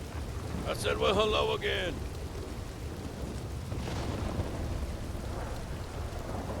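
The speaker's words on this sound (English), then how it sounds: "Yeah, this fucking storm." Steady heavy rain and a low storm rumble inside the RedM WildRP game fill the whole stretch, with a voice speaking briefly over the downpour near the start.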